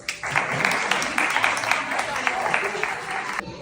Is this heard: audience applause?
yes